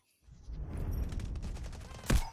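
SMG-45 submachine gun fire in Delta Force Mobile comes as a short, loud, rattling burst of rapid shots that ends with a sharper crack.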